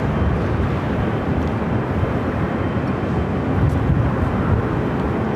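A jet airliner taking off from runway 24 left at LAX gives a steady, broad roar that stays loud and constant throughout, with no speech.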